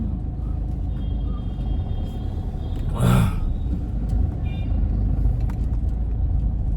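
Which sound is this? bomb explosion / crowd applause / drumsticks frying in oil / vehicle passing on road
vehicle passing on road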